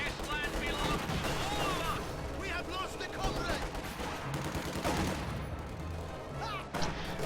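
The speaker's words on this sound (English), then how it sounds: "AT gun set up, gets a shot off." A tank video game battle plays out, with an anti-tank gun firing amid continuous gunfire, explosions and a dense wash of combat noise, sharp shots punching through the din over several seconds.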